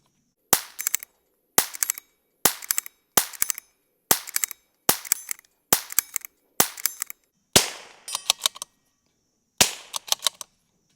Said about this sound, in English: That sounded like a bad round.